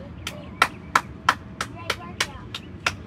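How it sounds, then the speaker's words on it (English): Sharp, close hand claps, about nine of them in a steady rhythm of roughly three per second, loud against a quiet background. "Give yourself a hand clap."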